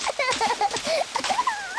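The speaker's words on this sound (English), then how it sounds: "Peppa and George both like splashing." Cartoon piglets splashing in a bath, quick watery splashes mixed with squealing, high childlike voices and cheerful babble, lively and close.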